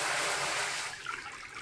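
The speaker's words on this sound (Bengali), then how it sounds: "ওই জন্য কড়াইতে জল দিয়ে দিচ্ছি।" Water pours briefly into a wok for steaming cauliflower, a close, rushing splash that tapers off within a couple of seconds.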